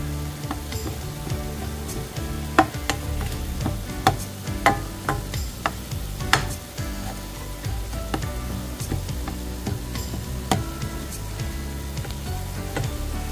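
Ground meat sizzles and fries steadily alongside banana blossom sisig in a pan, with sharp stirring clicks and scrapes punctuating the continuous crackle, close and moderately loud with no talking.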